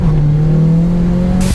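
A 400-plus horsepower turbocharged Mitsubishi Cedia engine revving, a loud, close, steady tone held briefly before a sharp burst at the end.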